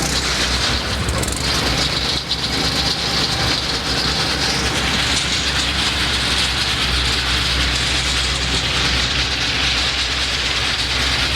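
The engine of a Hud-son topsoil screener runs loudly and continuously with a dense rumbling, rattling mechanical roar that holds steady throughout and has no talking.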